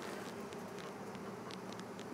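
Honeybees buzz steadily on crowded hive frames during a hive split, a soft continuous drone with faint higher whines, no voices.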